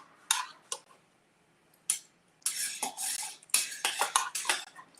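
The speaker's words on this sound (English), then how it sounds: "He's scraping over here. Y'all hear that?" Metal utensils scrape and clink against a pan or plate in a home kitchen while breakfast pizzas with egg are made, sharp irregular bursts, then a busier run of scraping strokes, close and fairly loud.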